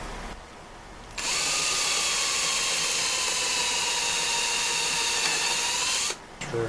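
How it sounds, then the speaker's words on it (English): A power drill whines loudly and steadily for several seconds drilling a hole in a 1925 Ford Model T part, starting abruptly after a quiet moment and stopping just as sharply. "I'm going to drill a hole."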